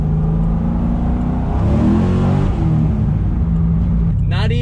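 A Corvette C6 Z06 accelerates hard, and its engine revs up into a loud, rising roar before settling. The sound is heard close up from inside the car, and a voice talks over it.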